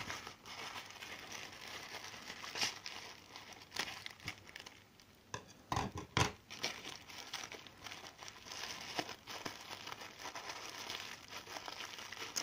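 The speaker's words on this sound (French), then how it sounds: "On va y aller à coups de ciseaux." Scissors cut through packaging: quiet crinkles and rustles of plastic with short, sharper snips clustered in the middle, heard alone and up close.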